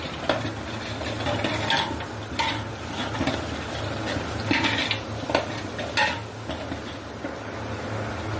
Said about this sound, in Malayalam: ആദ്യം പഴം റോസ്റ്റാക്കാം.